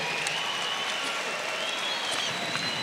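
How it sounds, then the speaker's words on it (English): An audience at a boxing bout at Christchurch Casino claps steadily after the fight, a dense, even wash of applause with crowd noise and a faint voice underneath. "Please big round of applause."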